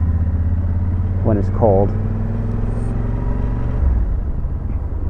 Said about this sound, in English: this is pretty much just normal idling speed